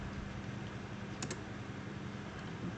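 Typing on a computer keyboard: a few soft, quick keystroke clicks over a steady background hiss, with no voices.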